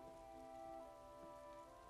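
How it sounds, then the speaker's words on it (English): A rainstorm in the video game The Elder Scrolls Online, a soft, steady hiss of rain under faint sustained background tones, with no talking. "I could do without this damnable rain. It's been storming since we arrived,"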